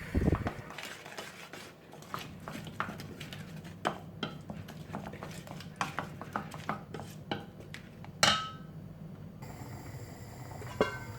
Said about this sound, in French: Et là, on va mélanger le tout.